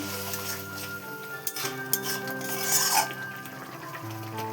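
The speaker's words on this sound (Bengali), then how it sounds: "ভালো করে নেড়ে নেব" Spice masala for a Bengali dried-pea ghugni is stirred with salt in a pan, making a soft, steady scraping sizzle with a few light clinks of a utensil. A sustained tonal background hums underneath.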